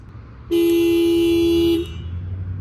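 A 2022 Honda Civic Sedan Touring's panic alarm blares its horn in one sustained, loud tone for over a second, then cuts off, leaving a low idling hum.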